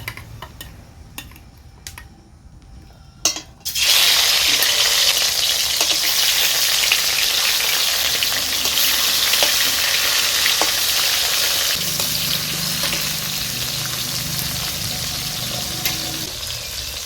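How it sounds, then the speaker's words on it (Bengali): Pieces of rui fish frying in hot mustard oil in a wok; a few light clinks, then a loud burst of sizzling as the fish goes in, settling into a steady, close crackle and hiss for the rest, with no voices. "মাছগুলো ভাজা হতে থাক"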